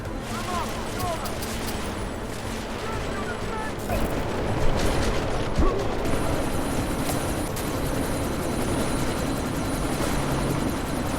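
A helicopter's rotor drones continuously in a Deus Ex: Mankind Divided combat scene, mixed with bursts of gunfire and other battle noise, loud and close throughout.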